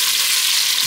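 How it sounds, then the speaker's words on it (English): Pork belly sizzles loudly and steadily as it is stir-fried in a hot pan, a dense, close frying hiss with no voices. "I'm just kind of like stir frying it almost"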